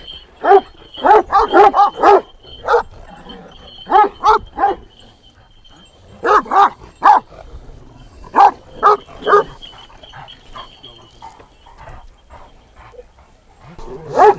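Turkish shepherd dogs, including Kangals, bark in loud, rapid bursts, several barks in quick succession with pauses between, close by in a village, with faint voices in the background.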